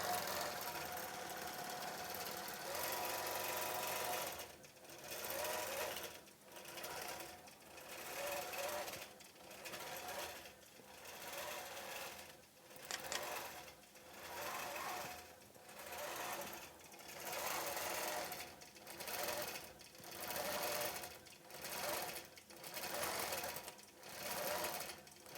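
A sewing machine stitches out a quilt design on an antique chain quilt, running with a steady, buzzing mechanical drone that pulses in a regular rhythm of short stops and restarts, and the sound holds throughout at a fairly constant, moderate level.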